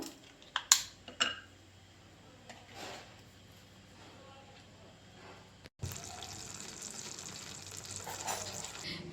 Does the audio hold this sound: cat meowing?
no